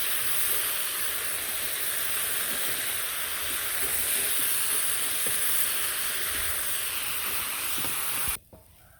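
Frying in a pan, likely vegetables with turmeric, gives a steady, loud sizzle that holds evenly for about eight seconds, then cuts off abruptly.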